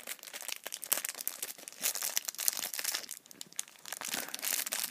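Plastic packaging crinkles and crackles up close as it is pulled and twisted open, in irregular bursts with no talking.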